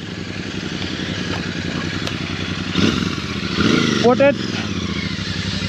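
A Kawasaki superbike rumbles with a steady low engine drone at idle, followed by a brief rise in revs. Someone speaks over the engine.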